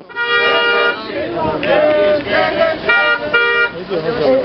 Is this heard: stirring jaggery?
no